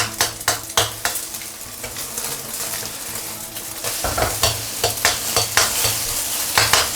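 Beaten eggs fry in cold oil poured into a wok for tomato and egg, a steady close sizzle running throughout, broken by repeated sharp scraping strokes of a utensil against the pan, with no talking.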